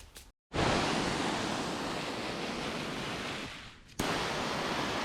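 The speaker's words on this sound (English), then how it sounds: "I'm using a setting that's like a spray. I'm doing it from far away" A garden hose on a spray setting waters Japanese maple seedlings from a distance, making a steady, broad hiss of falling water that cuts out briefly twice.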